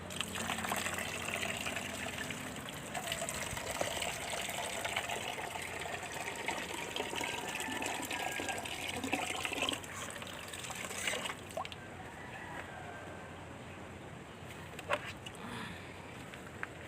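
Water pours and trickles steadily into a container for backyard pet chickens in a rural provincial yard. The rush runs continuously for about seventeen seconds at a moderate, even level and eases slightly toward the end.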